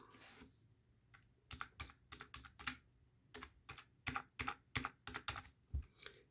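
Numbers typed on a computer keyboard or calculator during a math lesson, heard as a close run of quick, sharp key clicks in uneven bursts on a quiet background, with no talking.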